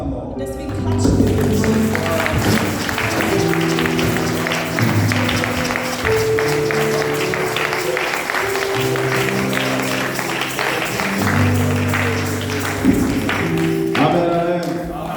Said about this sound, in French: Und deswegen klatschen wir.